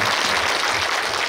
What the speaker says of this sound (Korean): 우리 다시 한번 하나님께 또 뜨거운 감사와 찬양의 영광의 박수 올려드리겠습니다.